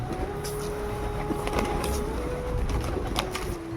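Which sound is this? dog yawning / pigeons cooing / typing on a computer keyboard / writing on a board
pigeons cooing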